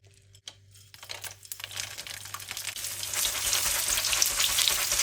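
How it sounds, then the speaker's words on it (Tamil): Dried turkey berries fry in hot oil, a dense crackling sizzle that starts after a couple of faint knocks and swells steadily louder, continuous and close throughout. "இது காய வச்ச சுண்டைக்காய். இதை இப்போ பொரித்து கறி காய்ச்ச போகிறேன்."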